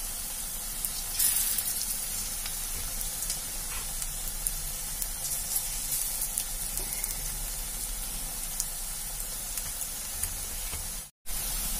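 Potato pieces frying in oil over a low flame, a steady soft sizzle with faint bubbling that continues evenly throughout, with no voices.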